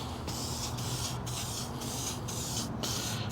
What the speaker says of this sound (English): I might just spray a little bit on the edges as well.